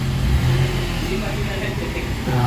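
Mitsubishi Mirage engine with throttle delay and low power, revving with a steady mid-pitched drone and a slight rise and fall, close, with someone talking over it.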